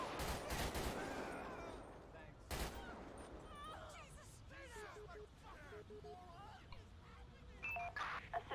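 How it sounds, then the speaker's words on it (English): Gunfire in a GTA V LSPDFR police shootout: sharp, loud shots burst at the start and again mid-way, with scattered quieter pops after, while radio beeps and chatter and someone talking run underneath. "We got other people shooting at us too"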